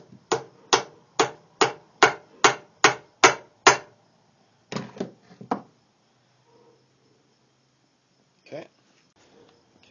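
Light hammer taps on a truck U-joint, eight quick evenly spaced strikes followed by a few softer, scattered taps, then near quiet with one faint knock.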